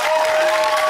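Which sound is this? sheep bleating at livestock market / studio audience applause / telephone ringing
studio audience applause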